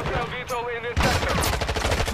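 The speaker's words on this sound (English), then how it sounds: "I'm still shooting my gun" Rapid light-machine-gun fire in Call of Duty Modern Warfare 2 erupts after a brief voice, a loud, dense stream of closely spaced shots continuing to the end.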